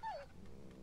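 A dog whimpers briefly in The Walking Dead Season 2 video game, a single short whine at the start that then fades into quiet game ambience.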